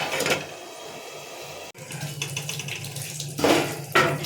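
A lid comes off a cooking pot of simmering bean pods, giving a short clatter of metal followed by clinks and watery kitchen noise at close range, with no talk.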